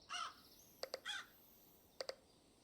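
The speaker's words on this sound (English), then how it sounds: "Okay, we got crows." Crows caw in a building game: three short bursts of harsh cawing interleaved with two pairs of quick, sharp clicks, fairly faint over a quiet background with no talk.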